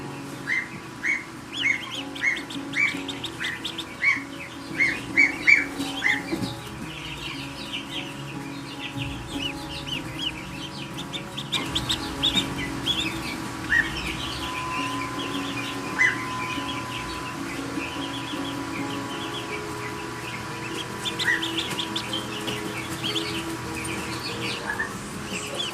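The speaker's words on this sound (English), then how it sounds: "So we have a duckling that just hatched" Peeping of a newly hatched duckling mixed with other bird chirps and clucking fowl, a run of short, high, repeated calls near the start, then sparser peeps over a steady low background hum.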